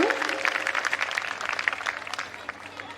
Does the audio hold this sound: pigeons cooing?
no